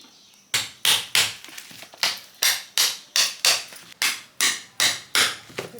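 A hammer cracks the thick shell of a bael fruit in a village kitchen for making murabba, with about a dozen loud, sharp blows struck in a steady rhythm, close up and without talk.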